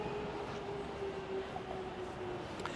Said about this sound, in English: there the train's just going past now